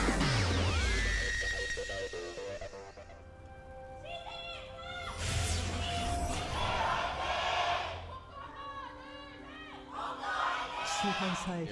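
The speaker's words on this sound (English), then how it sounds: "The CJ fans still cheering," An esports audience at a League of Legends match cheers in surging waves of broadband crowd noise, mixed with arena music and announcer talk.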